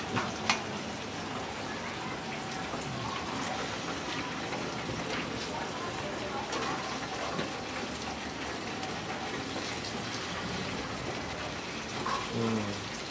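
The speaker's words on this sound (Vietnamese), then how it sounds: "Sủi cảo chiên." Dumplings frying in oil at a street food stall, a steady soft sizzle and bubbling throughout with occasional clinks and faint background voices.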